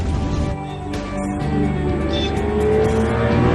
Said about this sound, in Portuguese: A pista de aterrissagem de Gimli havia sido transformada em uma pista de corrida de drag cars